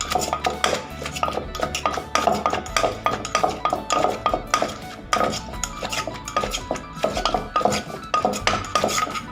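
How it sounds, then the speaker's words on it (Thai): Long bean papaya salad tossed with utensils, a close, rhythmic clatter of metal spoons knocking and scraping against a bowl in quick repeated strokes, with no voices. "คลุกอีกทีหนึ่ง"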